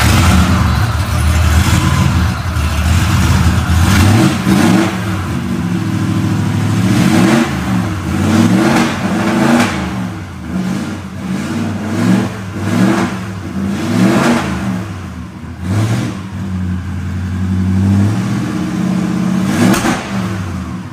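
A car powered by two joined four-cylinder Vigano engines revs hard over and over, loud and close, each sweep climbing and falling in a rough, throaty roar, with no voices over it.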